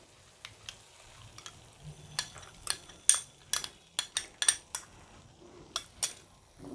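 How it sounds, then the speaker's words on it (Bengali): Milk poured into a pan of egg korma masala simmering on low heat, with soft scattered clinks and taps of a spoon against the pan and a faint bubbling underneath, quiet and close. "এখন দিয়ে দেব তরল দুধ 1/2 কাপ"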